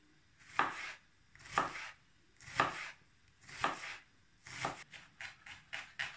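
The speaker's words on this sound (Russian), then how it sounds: "И мелко шинкуем." A knife finely chops onion on a board in five evenly spaced firm strokes, then a faster cluster of lighter cuts, close and clear, with no talking.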